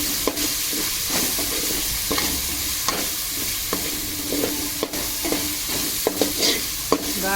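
Chicken mandi biryani with mandi masala stirred and frying in a pan, a steady sizzle broken by repeated scraping strokes of a spoon against the pan, close and fairly loud with no talking.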